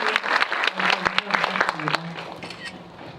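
An audience claps at a talk screening of the film House of Hummingbird, the applause close and lively with sharp individual claps, tapering off toward the end under a little talk.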